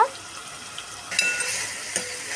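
Onion paste frying in hot oil in a pan, the sizzle jumping louder partway through as it is stirred, with faint scraping and a brief clink, close and steady with no talk.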